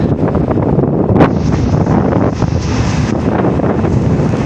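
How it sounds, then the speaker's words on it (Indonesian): Strong wind buffets the microphone on a ferry deck crossing the Bali Strait between Ketapang and Gilimanuk, a loud continuous rumble with gusts over the wash of the sea. "Ya, lumayan angin."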